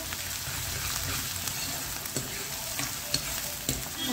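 Onions fry in a pan for an aloo paneer curry, giving a steady sizzle with occasional scraping clicks of stirring, close and moderately loud with no voices.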